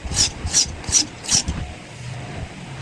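A knife blade is rubbed across an Indian sharpening stone to form a hollow grind, making four quick, evenly spaced rasping strokes up close, followed by a softer scrape and quiet handling.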